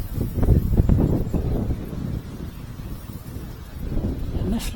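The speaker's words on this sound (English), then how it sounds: "The wind is sort of squalling," Gusty wind squalls across the microphone at a riverside fishing spot, a close, low rumbling buffet that surges strongest early, dips midway and swells again at the end.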